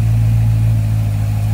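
A Corvette Z06 engine idles just after startup, a steady, close, low-pitched rumble that holds even and unbroken.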